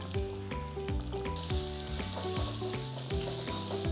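Crushed garlic fries in a hot pan for Thiruvananthapuram-style vada koottukari, a close, steady sizzle broken by repeated knocks and scrapes of stirring, with no one speaking.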